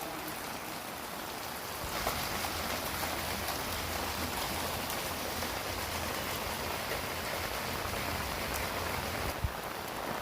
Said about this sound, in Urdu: انتہا درجے نے شدید ترین خطرناک قسم کی بارش